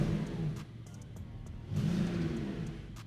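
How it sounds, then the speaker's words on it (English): A Porsche 911 GTS hybrid (992.2) engine hums low at idle, then swells into a louder rev partway through, with no talking over it. "All right, let's rev it up."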